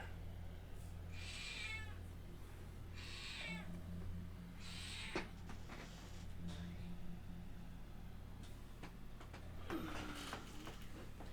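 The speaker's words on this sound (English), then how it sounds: "We've got a thief kitty." A cat meows several times at close range, short drawn-out cries spaced a second or two apart, over a low steady background hum, with quieter clicks and shuffling later.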